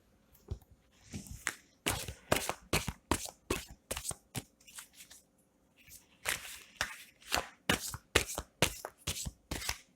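Oracle cards are shuffled by hand in quick, rhythmic riffling bursts, close and crisp, with short pauses between rounds and no talking.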